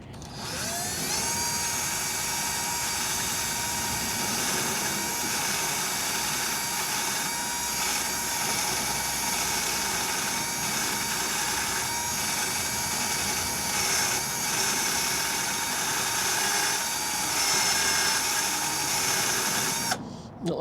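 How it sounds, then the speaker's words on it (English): A wire brush scrubs screws under a classic VW Beetle, a loud, continuous harsh whirring scrub that runs steadily for about twenty seconds with no pause. "let's have a wire brush festival at them."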